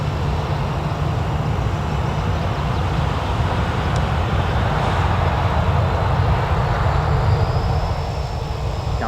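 Aircraft engines roar at full throttle during takeoff at Newcastle Airport, a dense, continuous, loud rumble that holds steady throughout.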